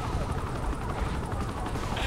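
Helicopter in the video game Saints Row: The Third, a steady broadband rotor and engine drone at a constant loud level through the whole short stretch, with low rumble underneath and no clear speech.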